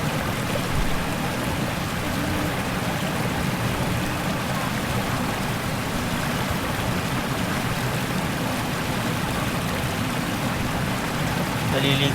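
A river flows with a steady, close rushing and trickling wash that stays constant throughout, filling the whole scene.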